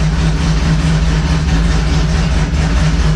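A Chevrolet Camaro engine idles after a cold start, a steady, loud low drone with no voices over it.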